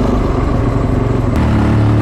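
A Fantic 450 Rally off-road motorcycle engine running under load while being ridden, a loud, close, steady rough drone with a slight shift in pitch partway through.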